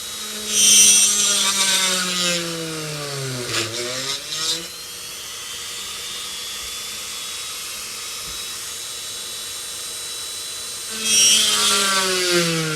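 A drill whirs into a workpiece for center drilling, motor pitch sweeping down and back up as it bites, loud and close at the start and end with a quieter steady grind between, no voices.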